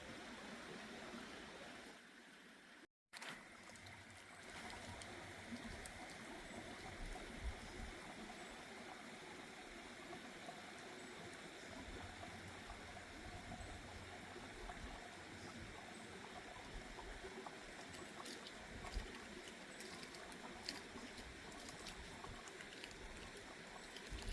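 A stream flows beside the Appalachian Trail in North Carolina, a continuous close rushing and gurgling of water that stays steady for the whole stretch, with one brief dropout near the beginning.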